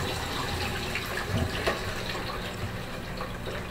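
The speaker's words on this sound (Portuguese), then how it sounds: "E vou despejar essa água desse jiló aqui." Soaking water from jiló (scarlet eggplant) poured out in a kitchen while making jiló sweets, a steady close gush and splash of liquid running for several seconds with no talk.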